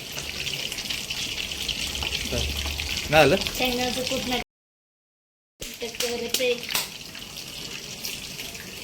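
Sabudana vada frying in hot oil in a home kitchen, with a steady sizzle and crackle running throughout, broken by a brief dropout and joined by a few clattering kitchen sounds and people talking.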